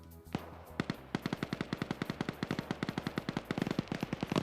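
Rapid automatic gunfire in a video game match, a dense run of sharp, evenly spaced shots firing steadily for several seconds, close and loud with no talk over it.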